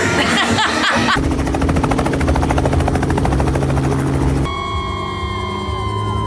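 A helicopter's rotor thumps rapidly and loudly overhead, a steady chopping pulse that shifts into a high whining turbine tone near the end.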